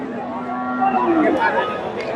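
A Friesian bull at the Bogura Dhaper Haat livestock market gives a low, drawn-out moo that swells toward the middle, with crowd chatter around it.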